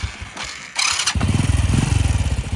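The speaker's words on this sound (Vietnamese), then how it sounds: "em nổ máy test một lần nữa cho anh em." A used Honda Wave Thai 110 motorcycle engine cranks briefly, catches, and settles into a loud, close, steady rapid idle thump.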